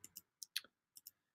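Computer mouse clicks, sharp and close, come in a few quick pairs with brief silent gaps between them, crisp and isolated with no talking.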